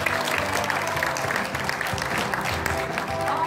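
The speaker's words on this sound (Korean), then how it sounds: "한번 뜨거운 박수 부탁드리겠습니다" Warm applause from the audience at the founding convention of the Gyeongbuk Labor Human Rights Center, a steady dense clapping that fills the hall without pause, with some crowd murmur beneath it.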